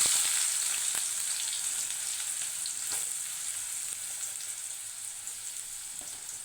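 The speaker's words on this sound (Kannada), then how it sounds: "ಈರುಳ್ಳಿ ಹಾಕ್ತಾಯಿದ್ದೀನಿ." Onions sizzle in hot oil in a pan: a steady, close hiss that eases slightly over time, with no voices.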